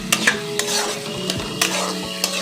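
Boiled cabbage being stirred and cooked down into a mashed bharta in a pan over raised heat, with repeated scraping strokes of a spatula over a continuous sizzle, close up and without talking.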